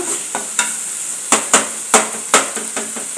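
Tomatoes with masala crushed and stirred in a hot pan, a run of sharp, close utensil knocks and scrapes about every quarter to half second over a sizzling bed.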